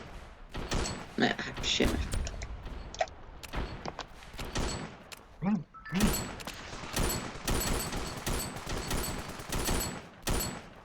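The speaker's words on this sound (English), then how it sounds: "Where am I being shot from? Am I being shot from the sky?" Gunfire in the video game Ravenfield crackles in dense, repeated bursts throughout, mixed with thuds and impacts, while someone speaks briefly over it.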